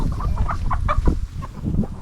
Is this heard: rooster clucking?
yes